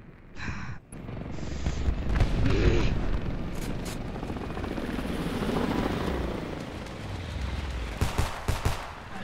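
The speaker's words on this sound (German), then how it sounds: "Feindlicher Luftschlag steht bevor." Airstrike in the multiplayer mode of the video game Homefront: heavy rumbling blasts and rolling explosion noise with sharp gunfire-like cracks, loud and continuous through the clip, with a swelling roar in the middle.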